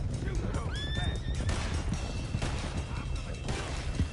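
A horse whinnies in the video game Red Dead Redemption 2. Short rising neighs stand out over a dense game soundscape of hoofbeats, ambience and distant gunfire, and voices talk underneath.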